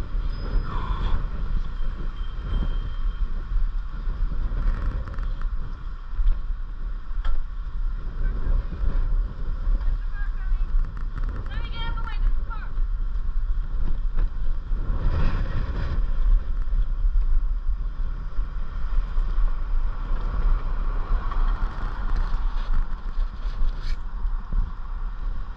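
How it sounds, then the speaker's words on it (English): Wind buffeting a microphone while biking around Palm Springs, a constant low rumble and rushing roar through the whole stretch with slight gusting, no voices. "It's windy."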